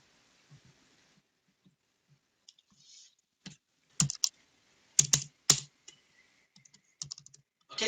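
Computer keyboard keys tapped while writing in Notepad, scattered single clicks at first, then louder bursts of quick keystrokes, close and alone with no talk.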